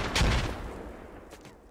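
Gunfire and a grenade blast crack out during a Squad video game battle, a sharp burst of shots followed by fading echoes and another distant pop, fairly faint overall.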